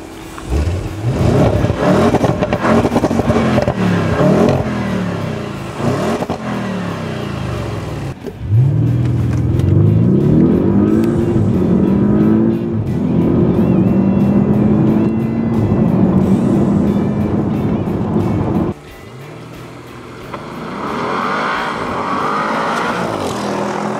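Audi S8 Plus with a 605 hp engine and quattro drive, revving and accelerating hard up close, with rising and falling engine tones through gear changes and a loud sustained roar before easing off.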